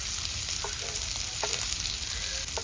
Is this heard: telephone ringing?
no